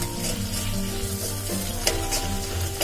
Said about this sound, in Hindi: अब मसाला हमारा अच्छे से भून रहा है,